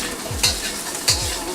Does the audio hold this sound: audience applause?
no